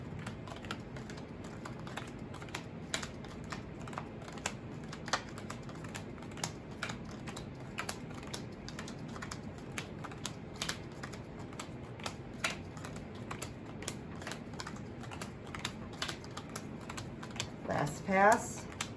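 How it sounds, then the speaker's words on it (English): Playing cards are dealt one per pile until the deck runs out, giving a steady series of quiet, crisp flicks and taps, with a brief voice near the end. "the 1 card shuffle, 1 per pile until you run out"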